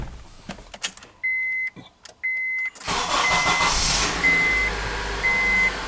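A Honda car being started for air-conditioning diagnosis: a few chime beeps and clicks, then the engine cranks and catches into a close, steady idle with more chime tones.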